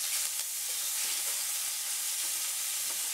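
Lamb searing and caramelising in a hot pan: a steady, dense sizzle and crackle of frying meat, continuous throughout with no talk.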